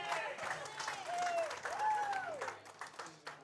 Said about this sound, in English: All that cheering in the background.